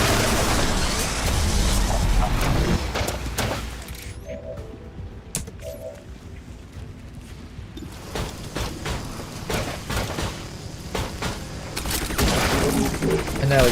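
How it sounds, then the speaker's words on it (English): Squad gunfire in the XCOM 2 video game: loud bursts of shots open and close the passage, with a quieter stretch of scattered impacts and effects in between. "now we just open fire on this thing until it dies"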